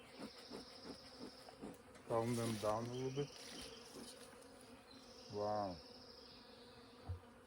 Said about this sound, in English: They're really mad bees.